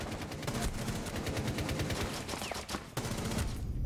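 Automatic gunfire in Rainbow Six Siege: rapid, steady bursts of shots with a brief pause near the end before firing resumes, moderately quiet and continuous.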